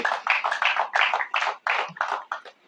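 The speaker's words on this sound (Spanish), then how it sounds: "Den un fuerte aplauso a mi Señor" An audience at a sermon claps together in a fast, steady burst of close, even applause with rhythmic pulses that fade out at the end.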